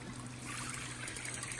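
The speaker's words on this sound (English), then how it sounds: "valve is not the best. It's kind of got a little dribble." Water dribbles from a leaky valve on a battery-ignition tankless propane water heater, a faint, steady trickle and splash with nobody speaking over it.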